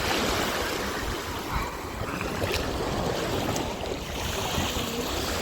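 Sea waves wash steadily onto a beach in Side, Turkey, a loud continuous roar of surf with wind buffeting the microphone throughout.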